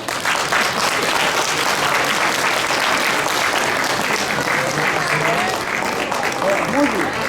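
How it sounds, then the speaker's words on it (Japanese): Audience at a Tamawashi one-day police and fire chief event in Tennoji, Osaka, applauds special guests, including the mascot Mozuyan, with steady dense clapping throughout, with brief voices and a squeaky tone near the end. "皆様拍手をお願いいたします。"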